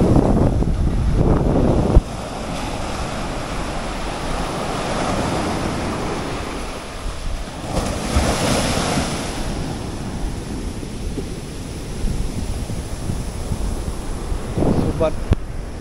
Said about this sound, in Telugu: అలలు డేంజరస్గా వస్తున్నాయి అసలు